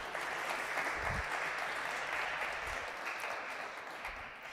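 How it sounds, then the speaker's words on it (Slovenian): An audience at an innovation festival gives a steady, even round of applause for a speaker, the dense clapping filling the room without pause from start to finish. "še en aplavz za gospoda Mermala"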